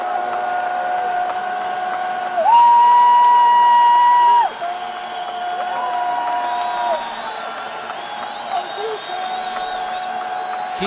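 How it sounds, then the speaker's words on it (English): Football stadium crowd at a college game roaring and whistling during a third-down play, a dense, sustained din with sharp tonal whistles and horns rising over it, heard under faint commentary. "Crowd trying to get into it."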